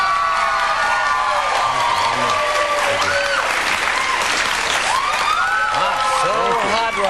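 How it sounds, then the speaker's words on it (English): A loud studio audience on a live morning talk show bursts into sustained applause mixed with cheers and whoops, staying dense and full throughout, with voices shouting over the clapping. "I didn't hear applause that loud since Sarah was here yesterday."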